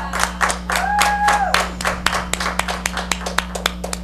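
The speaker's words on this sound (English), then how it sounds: "Give her a round of applause." An audience applauds a guest introduced at a local tonight-show event, a burst of clapping that thins into scattered individual claps, with a brief whistle-like tone early on.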